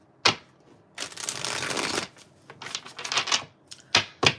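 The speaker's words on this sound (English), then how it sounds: "let's do one more shuffle" Tarot cards are shuffled in several quick bursts: a crisp riffle, a longer flutter, then short snaps and taps, close and fairly quiet.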